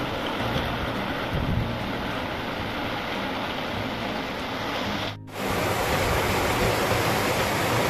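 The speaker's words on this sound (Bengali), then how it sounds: "মানে দেখতে পাচ্ছি আমরা কতটা জোরে হাওয়া দিচ্ছে।" Strong wind from Cyclone Remal roars steadily with heavy rain, as a dense, loud wash broken only by a brief dip near the end. No one speaks.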